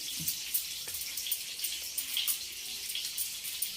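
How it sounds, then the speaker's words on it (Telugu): Water is poured into a bowl of salted raita for biryani, giving a steady trickling, splashing wash that runs through the clip at close range, with no talking. "కొన్ని వాటర్ పోసుకోండి"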